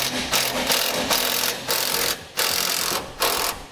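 A ratchet loosens the tow hook bolt on a 2016 Chevrolet while a Curt front-mount hitch is being fitted: about six short, close bursts of rapid clicking separated by brief pauses.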